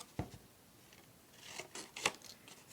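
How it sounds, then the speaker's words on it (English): Scissors snip through paper up to a score line while making a craft envelope with transparent floral stickers, giving a few faint, quiet cuts with one sharper crisp snip near the end. "So I'm just cutting right up to the score line, and I'm going to take it off."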